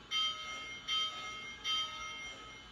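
Lionel toy train locomotive bell effect ringing three times in an even rhythm, bright and metallic over a faint background hiss.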